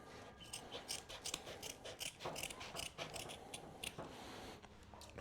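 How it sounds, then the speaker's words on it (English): Shears snip through tape on a Cerakote oven build, a run of crisp, rapid cuts repeating steadily and up close, with no talking over them. "the razor doesn't like to cut through it, so go back with the shears"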